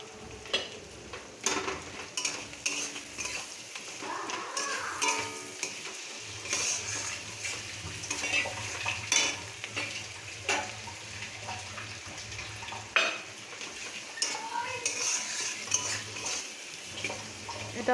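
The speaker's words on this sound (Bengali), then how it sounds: "ভাজা ভাজা হবে, একটু কষিয়ে নিই।" A spice paste fries in onion juice in a pan for a meat curry and is stirred steadily. A continuous sizzle carries through, broken by repeated scraping and clinking of the utensil against the pan, with no talking.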